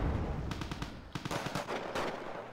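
Machine gun fire in a tank battle game, clustered bursts of close, loud shots over a rumbling background, with short breaks between volleys.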